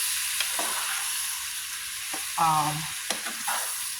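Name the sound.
stirring food frying in pan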